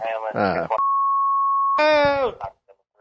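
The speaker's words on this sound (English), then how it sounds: "Declan, beep that out" A steady, single-pitched censor beep holds for about a second, cutting between stretches of a man's speech.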